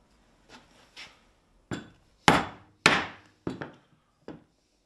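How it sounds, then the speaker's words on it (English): Sharp wooden knocks of a mallet striking a wooden-handled chisel while building a garden bench, about seven blows at irregular spacing, the middle ones loudest, each with a short ringing decay. "you hit it with a mallet."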